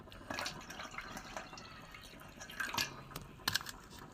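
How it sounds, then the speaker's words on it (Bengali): Cooking water is poured off boiled dal and potatoes over a wood-fired stove, giving soft splashing and dripping with a few sharper clinks of the pot, fairly faint and close. "জলটা ফেলে দেবো।"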